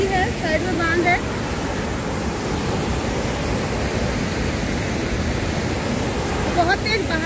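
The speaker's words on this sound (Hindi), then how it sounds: "यहाँ आप देख सकते हैं आसपास में ये ऊपर से झरना का कोई पानी आ रहा है, नदी है" Water from a waterfall and a fast-flowing river rushes near the Kanva Rishi ashram in Kotdwar, Uttarakhand, a loud, continuous, close roar with a few bird chirps near the start and end.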